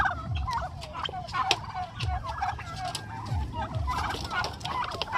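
Pet turkeys gobble and cluck close by while eating a felled banana tree, with repeated overlapping calls and soft pecking rustle throughout.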